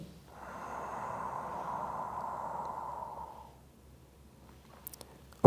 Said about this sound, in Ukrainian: Видих назад. Вдих вперед.